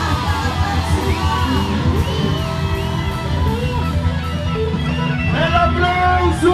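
A concert audience cheers, whoops and shouts continuously over a dense crowd roar, close and loud throughout, with voices calling out and rising excitement near the end.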